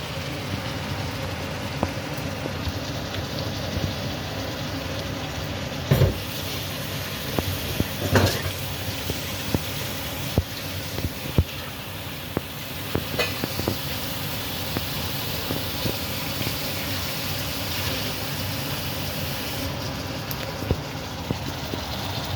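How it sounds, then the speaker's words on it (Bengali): Chicken kosha being stirred in a pan, a steady close sizzle with scattered scraping knocks of the spoon running throughout, and no voices. "আমার মা নাড়িয়ে নিচ্ছে খাবারটা"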